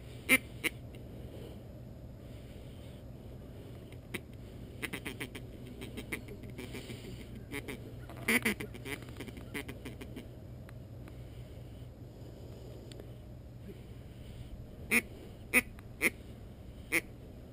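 A duck quacks during a duck hunt in central Texas, scattered sharp quacks, some in quick clusters, over a low steady background hum, with no one talking.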